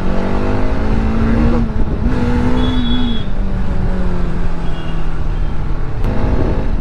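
A Bajaj Dominar motorcycle rides through city traffic, its engine holding a steady, loud drone with rising and falling pitch as it pulls past slower vehicles, road and wind noise constant throughout.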